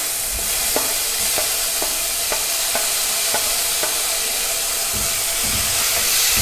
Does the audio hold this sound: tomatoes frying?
yes